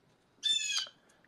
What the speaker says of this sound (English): there's literally a crow crowing in the back